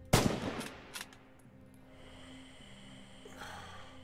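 A bolt-action rifle shot in Red Orchestra 2, Heroes of Stalingrad: one sharp, loud crack that echoes and fades, then quieter clicks of the bolt being worked.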